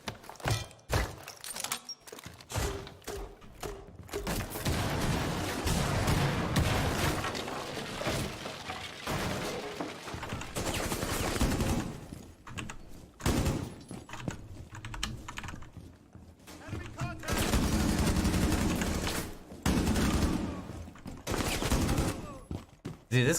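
LMG machine gun in Rainbow Six Siege, several long bursts of rapid automatic fire separated by short gaps, loud and close, mixed with keyboard clatter.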